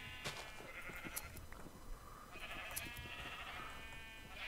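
Sheep bleating in the Minecraft video game while being sheared, a few faint repeated game bleats over a quiet background.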